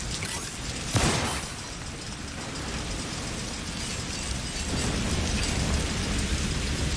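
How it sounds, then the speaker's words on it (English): Heavy rain and rumbling thunder of a storm in the VR game Stormland, a broad steady downpour with a sharp thunder crack near the start and the rain swelling louder in the second half. "Storm's starting to intensify a bit."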